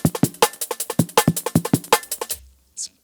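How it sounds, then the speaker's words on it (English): A halftime, repitched drum loop from the Ableton library plays crisp, punchy kicks, snares and hats in a steady busy pattern, loud and alone, cutting off after about two and a half seconds with a brief soft tail. "Starts off with this pretty standard drum beat, something from the Ableton library, I think"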